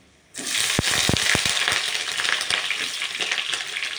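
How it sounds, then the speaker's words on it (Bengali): Chopped onions hit hot oil in a pan for home-style biryani, bursting into a loud, sudden sizzle with a few sharp crackles and stirring clatters, then settling into a steady close frying hiss. "এবার এর মধ্যে আমি দিয়ে দেব পেঁয়াজ, কুচানো পেঁয়াজ"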